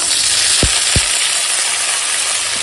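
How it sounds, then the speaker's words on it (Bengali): Potatoes already fried with chilies sizzle steadily in a pan with chopped tomato, a loud continuous frying hiss with two short low thumps early on, no voices. "আর দিলাম ভেজে করা আলু, আলুটা এখন ভেজে নেব।"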